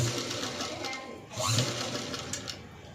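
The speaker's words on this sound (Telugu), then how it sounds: "మనకి ఎంత గ్యాప్లో అయితే కావాలో అంతంత గ్యాప్లో ముందు లైనింగ్కి స్టిచ్ చేసుకోవాలన్నమాట" A sewing machine stitches the lining of a princess-cut dress, a steady close mechanical whir with brief pauses in speed, running alone without talk.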